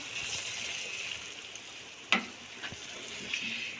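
Cauliflower and peas masala frying over full flame in a pan, a steady quiet sizzle with a single sharp stirring scrape midway and a few softer knocks, no talk.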